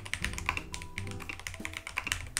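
Heavy-handed typing on a loud, undamped keyboard: rapid, uneven keystrokes clatter close and continuously, with sharp clicks and a few louder thumps throughout.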